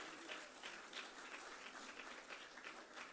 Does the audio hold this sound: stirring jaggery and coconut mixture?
no